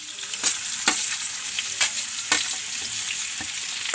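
Onion, ginger, garlic and green chilli fry in a hot pan for a crab roast, a steady close sizzle broken by repeated scraping stirs every half second or so, no voices.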